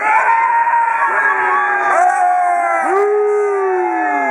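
Voice imitating a dragon roaring in a told story, a loud sustained howling cry with sliding pitch that swoops and falls off near the end.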